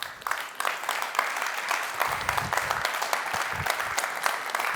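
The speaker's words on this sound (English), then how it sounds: "Ladies and gentlemen, give him a big round of applause, of course." An audience at a military medicine conference talk applauds a colonel's presentation, the clapping moderate in volume and steady, carrying on for several seconds with some distance to it.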